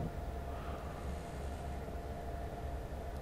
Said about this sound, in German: Auch hier schön die Geräusche, wenn man über die Weichen fährt.